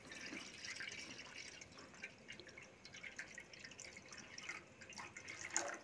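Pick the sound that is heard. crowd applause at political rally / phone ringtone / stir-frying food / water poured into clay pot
water poured into clay pot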